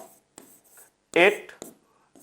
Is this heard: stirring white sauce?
no